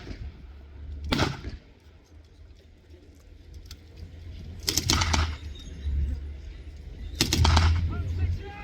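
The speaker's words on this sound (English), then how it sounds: "They're obviously suffering from enfilading fire from that German machine gun." German machine gun fire at a battle reenactment at Bovington staging the capture of Tiger 131: three short, harsh bursts of fire several seconds apart, moderately distant over an outdoor background murmur.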